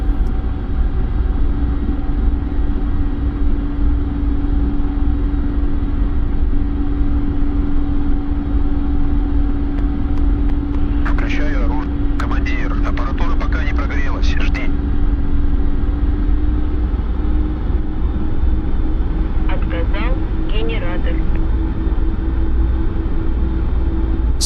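A Mi-24P Hind helicopter lifting off vertically in the DCS combat simulator: a loud, constant turbine and rotor rumble with a steady hum, interrupted midway and near the end by brief bursts of higher electronic chirping tones.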